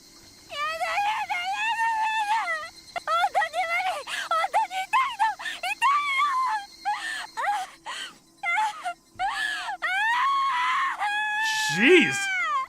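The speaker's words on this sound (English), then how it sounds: "How did she get the screams this realistic?" In the Higurashi visual novel, a voice produces long, drawn-out anguished screams and wails one after another, loud and close, ending in a sharp rising shriek.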